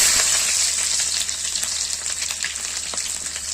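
Onions browning in hot oil with a few dried red chillies, giving a steady, close, fairly loud broadband sizzle with faint crackles and no talking.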